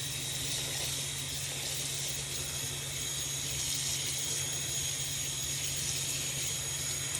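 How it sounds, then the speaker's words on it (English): Warm water running steadily into a sink to make a wool-wash soak bath for a knitted wrap, a constant close hiss and gush with no pauses and no talking. "The first thing we want to do is run a warm water bath for our project"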